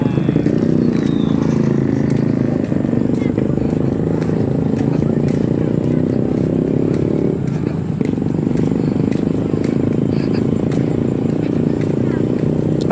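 A motorcycle engine runs continuously during riding practice, a steady low drone that is close and loud, while voices talk faintly over it.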